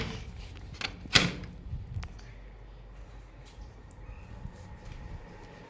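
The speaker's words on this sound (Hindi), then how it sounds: "अब दरवाज़ा बंद कर लेते हैं" A door is shut indoors, a single sharp knock-and-latch thud near the start followed by faint room noise and a few small clicks, with no talk.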